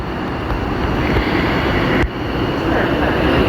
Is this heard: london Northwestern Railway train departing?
yes